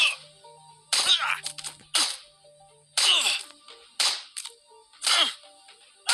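Sharp single gunshots crack out one at a time at roughly one-second intervals, each with a short echoing tail, against a quiet background.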